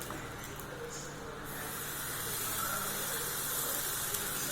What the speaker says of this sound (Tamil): இப்போ தோசையை ஊற்றிடலாம்.